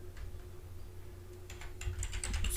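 Keys clatter on a computer keyboard in a quick burst of close taps that builds louder near the end over a faint steady hum.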